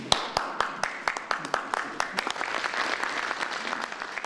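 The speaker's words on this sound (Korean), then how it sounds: "미국에서는 박수가 터져 나왔지만" Scattered hand claps start sparse and sharp, then build into fuller, continuous applause in a meeting room in the United States.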